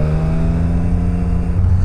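A three-cylinder motorcycle engine with exhaust hums steadily at close range, a throaty droning tone that rises slightly toward the end.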